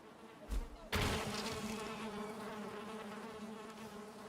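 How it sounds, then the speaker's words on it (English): Bees buzz steadily in the Valheim video game, a continuous droning hum that begins after a brief bump and holds at a moderate level throughout, with no talk. "I can hear bees, I think."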